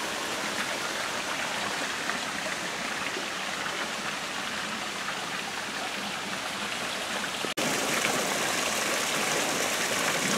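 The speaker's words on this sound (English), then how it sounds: "Another very lovely little mini waterfall into the water." A small waterfall splashing steadily into a low garden pond, a constant close rushing and splattering of water with no voices.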